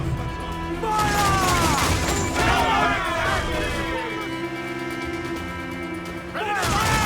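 Ship cannons fire a broadside in Assassin's Creed IV Black Flag, heavy booms and crashes clustered together, with shouting voices and mechanical clatter around them.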